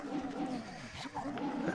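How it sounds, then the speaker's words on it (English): A parrot creature in the video game Serious Sam 2 gives a soft, cooing bird call over a busy, noisy game soundtrack. The call is faint and brief. "That's a parrot."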